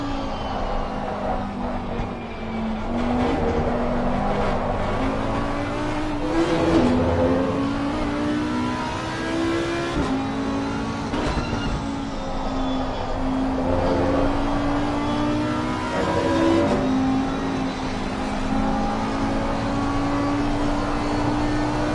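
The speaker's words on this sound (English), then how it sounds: "And now we jump on board on the Audi R8 of Possible." Onboard engine of an Audi R8 race car in Assetto Corsa Competizione at Zandvoort, a steady loud drone with gentle rises and dips in pitch as it shifts through the revs.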